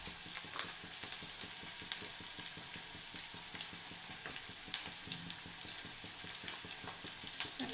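Sliced onions with a spoonful of ginger-garlic paste fry in oil for carrot palya, a steady close sizzle broken by frequent scraping stir sounds.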